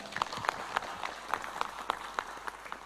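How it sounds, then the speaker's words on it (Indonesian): Light applause from a seated audience at a talk event, a few scattered, distinct claps standing out over a thin, quiet background, irregular and fairly close, fading without any speech. "Tepuk tangan buat Mas Abrang"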